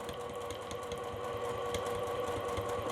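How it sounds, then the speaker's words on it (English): A sewing machine runs steadily, backstitching over a strap, a close, continuous mechanical whir with a rapid needle rhythm and no talking. "I'm going to backstitch over that strap as well"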